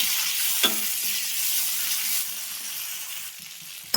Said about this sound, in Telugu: ఇందులోనే ఒక రెమ్మ కరివేపాకు కూడా వేసుకోండి. మంచిగా ఫ్రై చేసుకోండి.